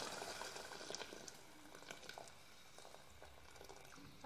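Hot water pours into a pot holding fried onion, a faint, continuous watery trickle and splash heard close up with no speech.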